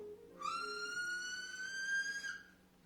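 A single finger whistle rings out as a clear, sustained high tone lasting about two seconds, slightly rising in pitch, fairly quiet and alone over faint background.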